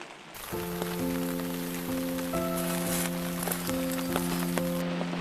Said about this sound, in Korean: 빗방울도 굉장히 굵어졌고 그냥 끊임없이 내리네요